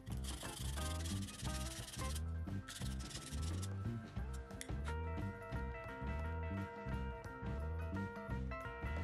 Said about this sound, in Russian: Наждачкой снимаю краску.